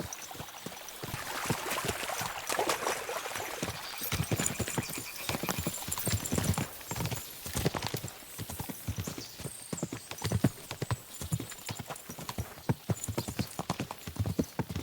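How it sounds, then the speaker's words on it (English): Horses gallop in the video game Kingdom Come: Deliverance II, a rapid, continuous clip-clop of hooves crossing terrain near a stream, loud and close, with splashy rushing texture and no talk. "As soon as we cross the stream, we'll give the horses a gallop again."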